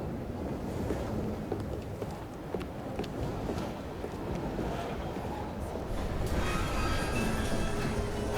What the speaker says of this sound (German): Naja, dafür haben wir jetzt aber einen Zug.